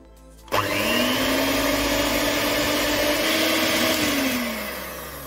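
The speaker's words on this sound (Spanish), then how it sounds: "Vamos a batir con una batidora de varillas durante unos 7-8 minutos." Electric whisk mixer switched on to beat eggs and sugar for a mandarin cake, a sudden loud motor whine that holds steady for several seconds, then eases slightly, with no talk.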